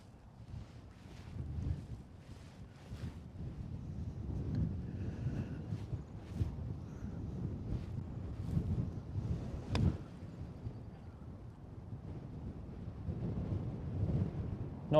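Strong wind roars across an outdoor golf course, a steady low rumble of gusts buffeting the microphone for the whole stretch with a few faint knocks and clicks on top.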